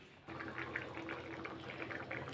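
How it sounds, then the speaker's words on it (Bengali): Ghugni, a pea curry, boiling in a pot, a faint close bubbling and burbling that starts abruptly and carries on steadily, alone without talk. "দেখুন, ঘুগনিটা ফুটে উঠেছে"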